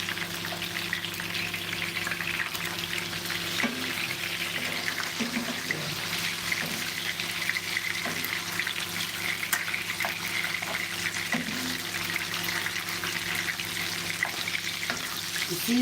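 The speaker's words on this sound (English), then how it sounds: "We are sealing the fish. We are sealing the moisture inside this fish." Fish sealing in hot oil in a pan for Senegalese benechin, a steady close sizzle with faint crackles and occasional scraping spoon touches, running throughout.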